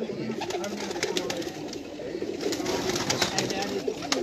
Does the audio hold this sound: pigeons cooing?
yes